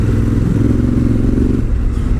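A Honda Africa Twin with a DCT gearbox, set in sport mode while riding offroad, gives a loud, steady engine drone with a low throbbing note that shifts slightly partway through.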